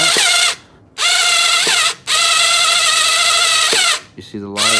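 A power tool loosens a car headlight's adjustment screw, running in steady whining bursts of about a second each, separated by short pauses and ending in a wavering, slowing whirr.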